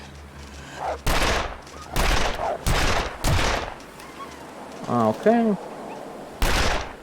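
Revolver shots in the video game The Long Dark ring out as about five loud, sharp cracks spaced unevenly over several seconds. A short tonal call from a creature sounds between the later shots, and a single brief spoken word comes near the start.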